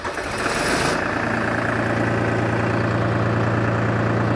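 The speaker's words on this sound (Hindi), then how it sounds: "आइए ड्राइवर जी थोड़ा ट्रैक्टर चालू कीजिए।" A tractor engine cranks and catches, then settles into a loud, close, steady idle with a throbbing low rumble and a fine rattling vibration.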